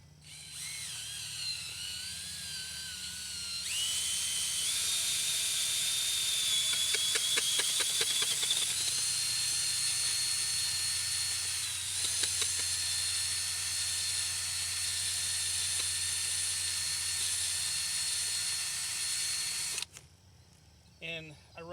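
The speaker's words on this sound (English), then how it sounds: "Then I'm going to take my drill" A power drill bores a hole into garden soil, its motor whining steadily and loud at close range for about fifteen seconds with brief speed changes and ratcheting bursts, then cutting off.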